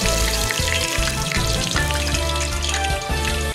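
White grubs frying in very hot oil, a loud, close, continuous sizzle and crackle with a low rhythmic rumble underneath and no voices.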